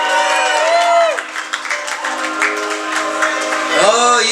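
At a circus sideshow performance at the Double Door in Chicago, an audience cheers, whoops and claps for a performer, with loud, excited voices rising over scattered applause.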